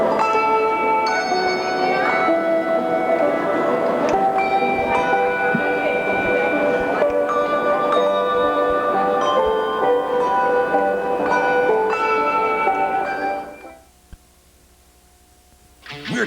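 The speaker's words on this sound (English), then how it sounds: "Members of the Arts ETC Handbell Choir performed a melody of Christmas tunes with bells as shoppers listened." A handbell choir rings out a medley of Christmas tunes in a shopping center, bright sustained bell tones layered in melody, loud and continuous before fading to near silence at the end.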